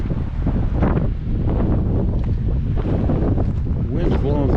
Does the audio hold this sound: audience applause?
no